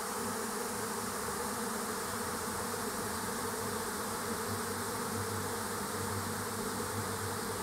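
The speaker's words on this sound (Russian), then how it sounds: "звук роя пчел отражается от построек, тут сарай, забор, и такое гудение получается, как будто бы механизм какой-то гудит" A honeybee swarm hums steadily in a yard, the dense insect drone reflecting off a shed, fence and nearby buildings so it resembles a running machine, continuous and fairly quiet with no voices.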